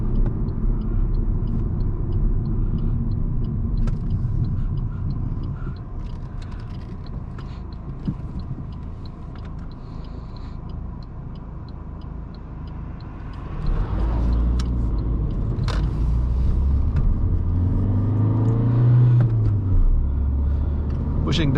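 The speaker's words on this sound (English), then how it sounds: "Pushing the pedal, the car makes a lot of noise, the diesel engine, but sometimes not much is happening." An Alfa Romeo Mito diesel engine drones steadily as the car drives at speed on the Autobahn at night, a continuous low rumble with road noise that swells louder as the pedal is pushed partway through.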